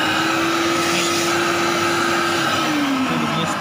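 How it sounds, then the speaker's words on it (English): Kärcher Puzzi 10/1 spray extraction vacuum motor runs continuously, a loud steady whine and rush that holds an even pitch before dipping slightly near the end, with no voices. "So motor vacuum dengan motor air."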